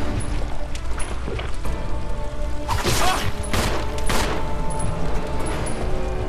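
Gunfire in the Resident Evil Zero video game: several loud, sharp blasts land close together midway through, over a continuous background of game noise and clatter.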